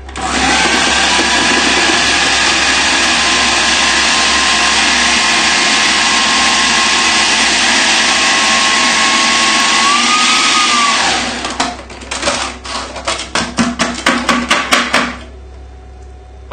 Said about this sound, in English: So we can just pop the lid on and give this a good blend away.